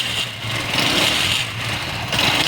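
A 70cc motorcycle engine runs steadily and smoothly without misfiring after a capacitor fix, a loud, close, continuous hum and buzz with no speech.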